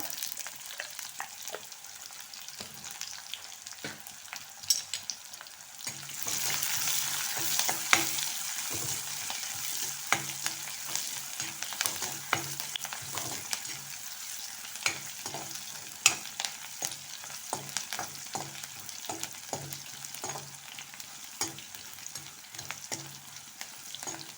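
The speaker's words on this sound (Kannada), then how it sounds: "ಈರುಳ್ಳಿ ಫ್ರೈ ಆಗಿದೆ ನೋಡಿ" Onions fry in a steady oil sizzle with frequent sharp scrapes and clinks of a spoon stirring in a pan, continuing for a long stretch without talk.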